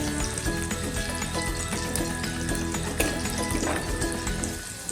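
Onion frying steadily in a pan while salt goes in for a tangy raw-mango chutney, a continuous close sizzle and crackle with a brief splashy burst near the end.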